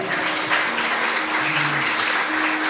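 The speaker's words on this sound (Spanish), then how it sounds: "Vamos a darles un aplauso a los que nos están escuchando allá." A crowd claps steadily and densely throughout, a continuous wash of applause with a few faint tones underneath.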